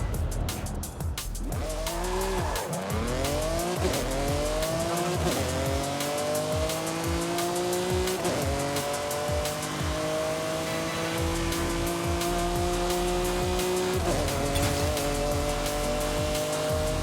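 A Ferrari 575M in a night street-racing video game, engine roaring steadily at high revs with repeated sustained tyre squeals and skids sweeping in pitch, loud and continuous with no talk.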